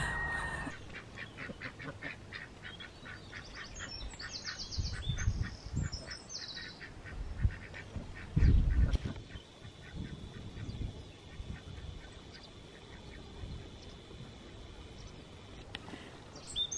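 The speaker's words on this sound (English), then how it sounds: "How do you ask a goose if it's a goose? Are you a goose?" Geese honk in scattered, fairly faint calls outdoors on a countryside walk, with one louder burst midway against a quiet background.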